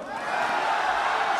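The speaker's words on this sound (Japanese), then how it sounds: "地元フランスマルセイユのファンの大歓声" A large home crowd of French fans roars in a Marseille boxing arena as the champion enters for a WBA world super bantamweight title fight, a dense, steady wall of cheering that holds at full strength throughout.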